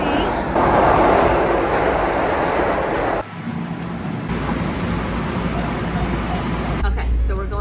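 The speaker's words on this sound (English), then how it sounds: "Train is coming, as you can see." Loud rumbling of a train rolling into a station on the way into Manhattan, a steady roar with a brief drop midway before the heavy rumble and screech build again.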